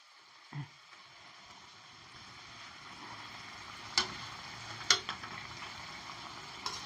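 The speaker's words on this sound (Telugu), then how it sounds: "ఇట్లా వేయాలి ఇక ఈ రకంగా కాల్చుకున్నాలి" Coconut rava kajjikayalu (garijalu) frying in hot oil, a soft steady sizzle running throughout with a few sharper clinks and ticks of a utensil against the pan; no one speaks.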